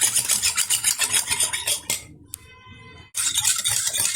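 Sugar, salt and lemon juice being stirred and pressed together with a utensil in a bowl for a sweet yogurt drink, a steady close scraping and rubbing that pauses briefly midway before resuming.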